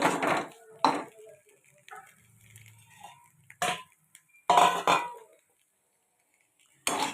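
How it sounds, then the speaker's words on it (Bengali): Fried vegetables moved from a pan into a bowl, a few separate clattering scrapes and knocks of a utensil against metal, spaced out with quiet gaps between them, close and moderately loud. "এই সবজিগুলোকে আমি আস্তে আস্তে একটা বাটির মধ্যে নামিয়ে নেব।"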